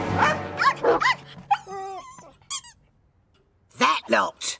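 A cartoon dog gives a few sharp yips and barks mixed with whimpering squeaks, close and loud, separated by short pauses, with a voice speaking in between.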